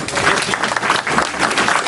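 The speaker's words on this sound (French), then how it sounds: "on applaudit bien fort" Loud, continuous clapping from a gathered crowd applauding the mayor at a local ceremony, a dense steady wash of many hands without pause.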